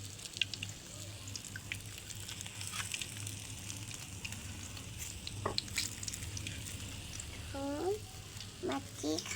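Fish fries in a home kitchen pan, a faint continuous sizzle with occasional clinks and scrapes, and a voice chirps briefly near the end.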